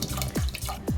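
Two litres of water poured from a container into a pot of barley make a close, gurgling stream with rhythmic glugs, loud and alone.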